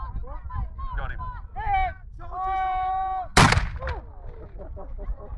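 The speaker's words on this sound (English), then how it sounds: "That's just one little cannon." A single sharp blast from a small cannon at a Civil War reenactment cracks out loud and close midway, with people talking before and after it.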